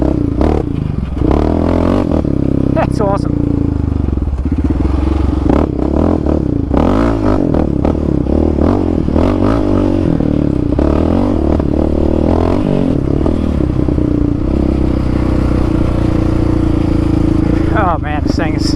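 A Yamaha Raptor 700 ATV in third gear rolls on the throttle without the clutch, its engine droning loudly and steadily up close under wind and rattling, while a rider speaks.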